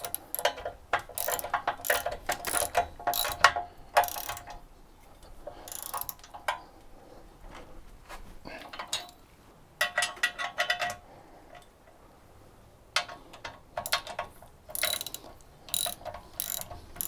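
A ratcheting wrench tightens nuts on a RockHard 4x4 swing-out tire carrier on a Jeep TJ, giving quick bursts of clicking separated by short pauses.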